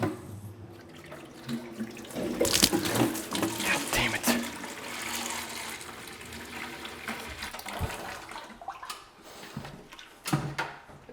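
Water runs steadily from a newly installed all-metal shower faucet to flush debris out of the lines, a continuous close splashing rush with brief louder surges and no talk.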